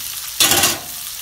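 Vegetables with chili and capsicum hit a hot pan for chicken with vegetables, a sudden burst of sizzling and stirring that fades after a moment.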